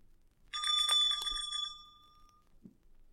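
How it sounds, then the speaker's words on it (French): Small bells tinkle brightly for about two seconds, ringing out and fading, followed by a faint soft knock. "Elle fera tinter ses petites cloches comme ceci."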